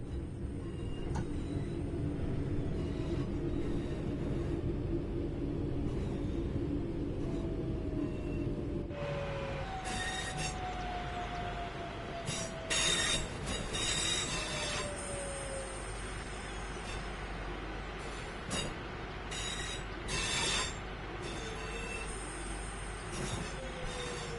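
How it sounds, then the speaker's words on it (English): A video game train rumbles along steadily, then brakes engage with long squealing wheel tones and scattered metallic clanks as it slows to a stop, with no talking. "it's time to bring the train to a stop"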